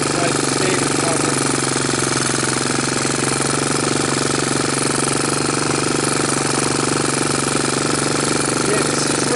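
A Honda TRX200SX ATV running on its stock ignition, a loud, close, continuous engine rattle that holds steady from start to finish.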